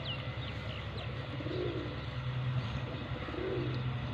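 Domestic village pigeons coo softly, two low rolling coos a couple of seconds apart, with faint high chirps over a steady low background hum.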